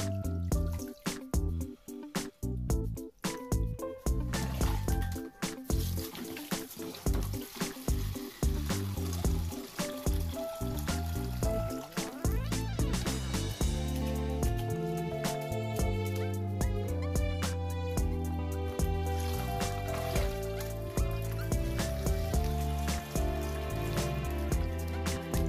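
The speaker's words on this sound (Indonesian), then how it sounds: "kita cuci, kita peras sampai bersih" Mushrooms being washed by hand in water and squeezed out, with steady dripping, splashing and sloshing that runs continuously and close by, without talk.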